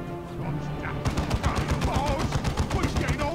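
Rapid, loud automatic gunfire erupts after a second of quieter battlefield ambience in the video game Warhammer 40k: Dawn of War II, sustained bursts fired in a fight against orks, with a voice heard faintly underneath.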